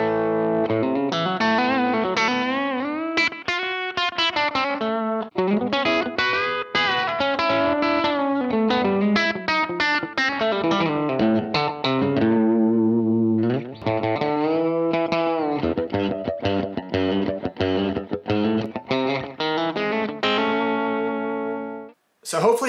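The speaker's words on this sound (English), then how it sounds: "So here's the Vox AC-15 with the compressor engaged." Electric guitar played through a Vox AC15 amp with compressor and delay, a clean, sustained country-style melodic line of bends and picked notes with echo trails, loud and alone.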